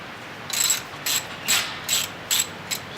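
A ratchet wrench clicks in six short, loud bursts as it loosens the positive battery terminal nut on a Ducati Monster 750 motorcycle, each burst a quick run of close metallic ticks.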